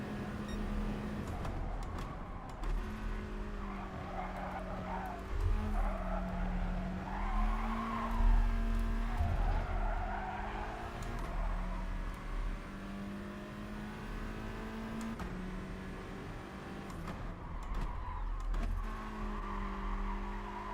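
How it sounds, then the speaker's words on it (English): A Volkswagen Scirocco race car in GT Sport being driven hard, its engine droning steadily with rising and falling revs through gear changes, plus occasional tire squeal over about twenty seconds. "let's try and really thrash this Scirocco and get some good pace out of it"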